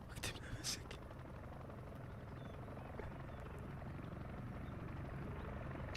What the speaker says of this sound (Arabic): هاي كم طيارة صارت؟